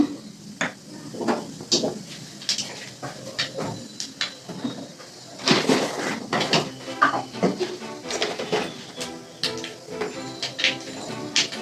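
Nigella seeds are dropped into hot oil left from frying brinjal in a kadai, with a soft sizzle under repeated close clinks and scrapes of a spatula against the pan, and no talk.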